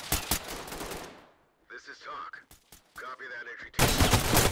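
Gunfire in the tactical shooter Ready or Not: a loud burst of rapid shots opens, then a quiet gap with people talking, then another dense loud volley at the end.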